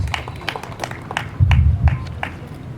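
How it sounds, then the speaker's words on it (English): A small group at a mediation graduation ceremony gives scattered, fairly close claps in an irregular rhythm, with a brief low rumble in the middle. "appreciate her as she comes with a clap, please"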